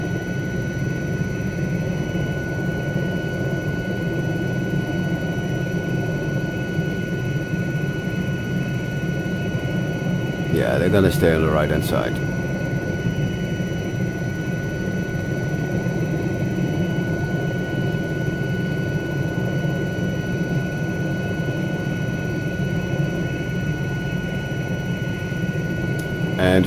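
Helicopter flying in Microsoft Flight Simulator 2020 over Banff, a steady droning rotor and engine hum held loud and even throughout, with someone talking briefly over it and a short click midway.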